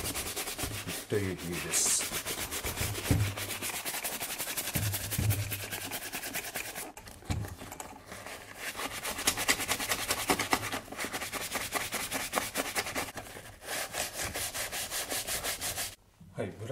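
A bright brush works cream polish into the upper and tongue of Tricker's leather shoes for an antique finish. Rapid rhythmic scrubbing strokes run close and steady in bursts with short pauses, and a voice speaks briefly.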